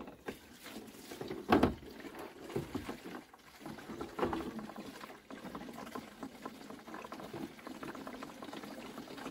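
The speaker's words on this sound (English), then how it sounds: "So let's chuck some diesel in." Diesel fuel pours into a small tank with a soft, bubbling gurgle that swells and eases over several seconds, fairly quiet and with no voices.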